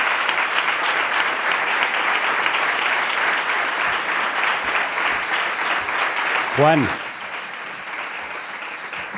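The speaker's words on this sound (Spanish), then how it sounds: "eso merece un aplauso" A live audience at a gathering in Marinaleda applauds steadily with dense, sustained clapping, with a brief spoken name rising over the crowd near the end.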